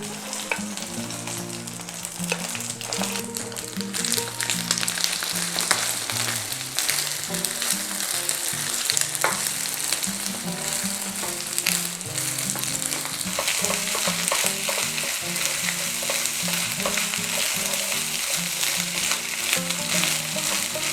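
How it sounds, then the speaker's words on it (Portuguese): Rice mixed with beaten eggs fries in a hot pan for fried rice, a steady dense sizzle running throughout with frequent scraping and clattering stirs, close and fairly loud, no voices. "Frite esse arroz aqui por 2 a 3 minutos, até você garantir que o ovo está todo frito e bem sequinho. Mexa ele constantemente para que não empelote."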